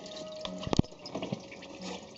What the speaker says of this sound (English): Once you remove that hose, she's going to start leaking out some.